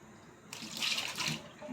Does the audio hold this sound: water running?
yes